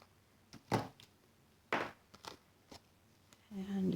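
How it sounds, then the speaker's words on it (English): Scissors cutting cardstock for a copper Thanksgiving card, a few separate short snips in quiet surroundings, then a louder rustle of handling at the end. "Take my scissors."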